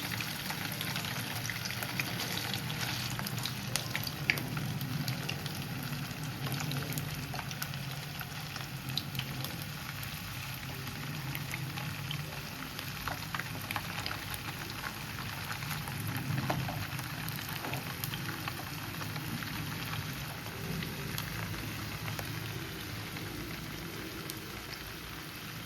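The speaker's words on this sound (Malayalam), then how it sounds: "നമ്മളെ ബട്ടറും ഓയിലും മിക്സ് ചെയ്തിട്ട് എങ്ങനെയായാലും അതിലിട്ട് ഫ്രൈ ചെയ്തെടുക്കണം." Seekh kebabs frying in a mix of butter and oil, a continuous dense crackling sizzle like steady rain, close and even throughout.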